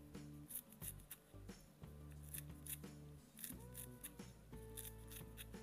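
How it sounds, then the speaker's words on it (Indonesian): Scissors snip through pandan leaves for an Indonesian fried chicken recipe, giving a steady run of crisp, close cutting clicks with short pauses between snips. "Gunting, gunting."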